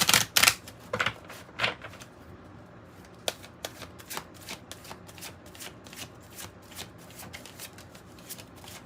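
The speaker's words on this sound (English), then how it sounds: "Let me shuffle that one more time." A deck of cards is riffled in a few loud bursts, then a long run of quick, light ticking as the cards fall together.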